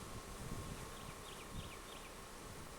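Italian three-band honey bees buzz at a beekeeping site, a faint, steady hum with a few brief nearby passes rising over soft background noise.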